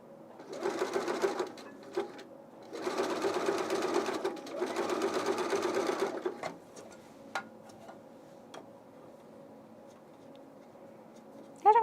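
Sewing machine running zigzag stitches along a fold on knit fabric, buzzing in three close bursts of a few seconds each, then stopping, followed by scattered ticks and clicks.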